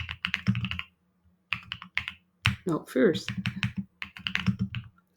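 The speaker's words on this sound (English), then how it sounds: "I love this keyboard, by the way. The sound is what we call thoki, so like little marbles." Bursts of typing on a mechanical computer keyboard with a deep, marble-like thock, short clustered key strikes separated by pauses, close and clear, with a brief spoken remark mixed in.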